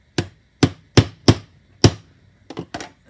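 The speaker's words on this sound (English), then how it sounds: "And got a little hammer here." Seven sharp metallic taps from a small hammer setting a rivet on a plastic table, spaced unevenly with five firm strikes followed by two lighter quick ones, close and clear with no talk.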